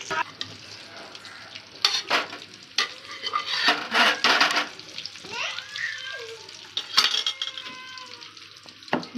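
Chicken biryani is scooped and transferred into a pot, giving a series of irregular scraping, clattering spoon-and-vessel sounds with soft sizzling between them, close up and with no talk.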